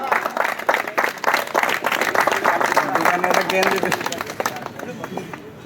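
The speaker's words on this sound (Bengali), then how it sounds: "একটা করতালি হয়ে যাক" A crowd at a local premier league tournament prize-giving ceremony applauds with dense, rapid clapping while a voice talks loudly over it, and the clapping thins out toward the end.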